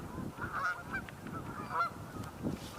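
Geese or tundra swans calling outdoors: faint, distant honking calls that repeat irregularly over a few seconds.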